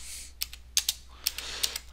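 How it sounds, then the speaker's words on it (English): A computer keyboard is tapped with a handful of sharp, separate keystrokes in an irregular rhythm, faint and close, with no one talking. "once the line is drawn, simply start typing the desired text"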